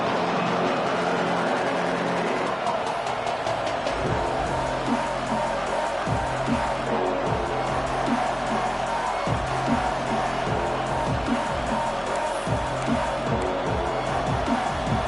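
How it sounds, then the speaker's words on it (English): Crowd noise inside a football stadium in a college football video game, a steady roar with rhythmic low thumps and cheering throughout on a third down at Auburn. "This Auburn crowd trying to conjure up a little magic here on third down."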